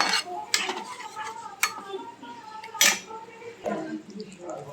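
A spatula scrapes and knocks against a pan while a mustard-based fish curry with pabda fish and brinjal is stirred, sharp metallic clatters at irregular intervals with a voice talking between them.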